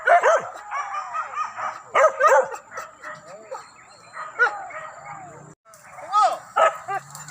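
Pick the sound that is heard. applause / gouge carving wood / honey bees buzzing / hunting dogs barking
hunting dogs barking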